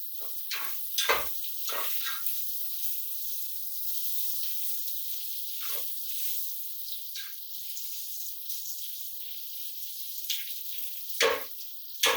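Andouille sausage sizzles steadily in a pan as its grease renders out, a continuous bright hiss broken by a few sharper spits and crackles, close and alone without talk.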